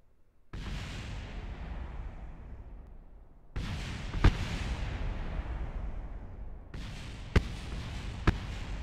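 In Kerbal Space Program, rocket engines ignite in three separate loud, roaring blasts. Each burst rumbles on and fades slowly, and a few sharp pops punctuate the thunder.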